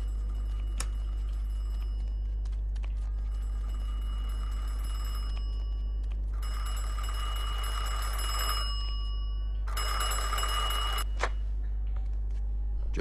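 A telephone rings in the Mafia 2 video game in repeated bursts of bright electric bell trills, separated by short pauses, over a steady low hum, with no one talking.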